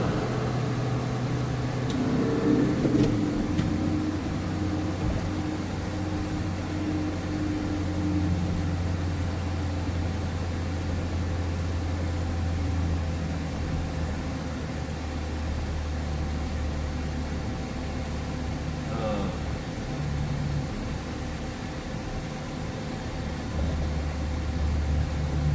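A car heater runs with two fans blowing, making a steady, moderately loud whooshing blower roar that continues with little change for about twenty-five seconds.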